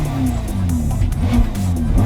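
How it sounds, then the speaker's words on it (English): A 2017 Ferrari GTC4Lusso T with a twin-turbo V8 in sport mode, exhaust valves open, revving hard close by, a loud continuous rasping engine roar rising and falling through short throttle blips. "So we're in sport mode and the valves automatically opens up when you hit the throttle."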